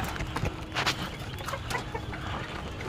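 Pigeons being fed in the rain, their soft cooing and flutter mixed with light rustling, close by and continuous with no talk.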